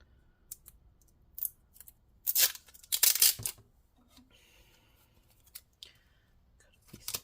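Short crisp snips and rips of tape being pulled and torn off during a Dell Inspiron 5515 laptop repair, a few sharp bursts clustered in the middle, close and fairly quiet between bursts.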